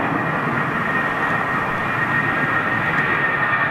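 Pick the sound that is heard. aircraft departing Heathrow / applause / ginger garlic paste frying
aircraft departing Heathrow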